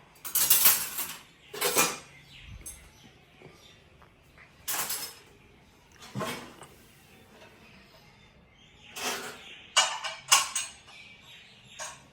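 Sharp metallic clinks and clatters of dishes and utensils come in irregular bursts, with quieter pauses between, close by and no talking.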